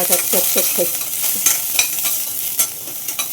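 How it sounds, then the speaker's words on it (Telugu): Curry leaves and green chillies crackle and spit in hot oil in a steel pan, opening with a quick run of sharp pops, then an ongoing sizzle dotted with spatula taps, close up with no voices. "ఇదిగోండి కరివేపాకు, అలాగే పచ్చిమిరపకాయలు వేసి పటాపట్టని వేసేసుకోవాలి"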